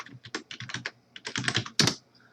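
Fingers tap out two quick bursts of keystrokes on a computer keyboard, close and crisp, ending on one heavier key press.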